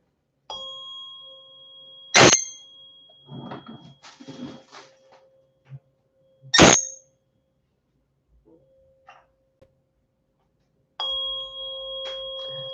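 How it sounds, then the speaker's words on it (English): A 528 Hz tuning fork gives two sharp strikes that ring out in sustained bright tones, with brief murmuring speech between them and another ringing tone at the end. "Got my tuning fork in 528 and it sounds like this."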